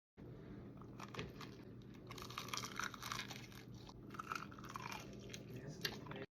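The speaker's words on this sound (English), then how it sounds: "These wings are sweet with a touch of Hennessy flavor and they crunchy." Close, quiet crunching and chewing of crispy peach Hennessy chicken wings, sweet-glazed, with steady bites and crackles throughout and no talk.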